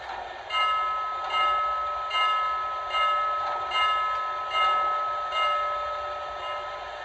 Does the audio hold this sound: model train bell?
yes